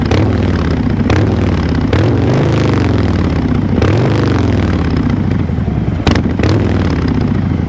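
A Harley-Davidson Fat Boy motorcycle revving loudly up close with its exhaust valve open, the throaty exhaust rising and falling in repeated bursts with a rough, rumbling roar.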